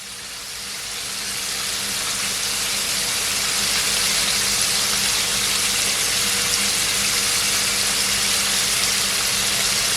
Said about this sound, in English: So it's been frying for at least 5 minutes.